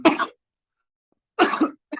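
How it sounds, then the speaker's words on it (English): Two bursts of coughing, close and fairly loud, separated by a second of silence, then a short third cough begins. "I hope my coughing gave you some time to think"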